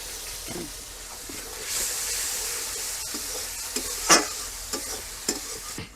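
Prawns sizzling in a pan just after soy sauce and a little water go in, a loud steady hiss swelling midway with sharp spits and a scrape of stirring near the end, close up and without talk.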